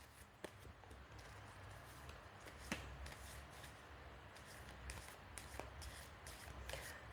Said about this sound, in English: let me just do a couple more shuffles